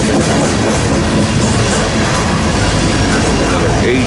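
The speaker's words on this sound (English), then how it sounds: "There's another coal train right after this one coming." A long coal train rolls past close by near Ashland, Nebraska, its loud, steady roar of wheels and railcars filling the air with continuous clickety-clack and no pause.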